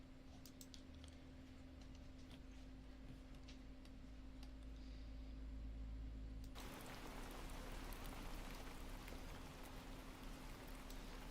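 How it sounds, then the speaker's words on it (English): Recorded rain plays as background ambience for a live reading: faint ticking at first, then a steady, soft rainfall hiss that swells in and continues evenly, with no voices. "let's get some rain music in the background"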